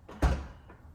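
Tesla trunk unlatching after a key fob press, a single quiet thump with a short mechanical clunk followed by a fading rattle, close and brief.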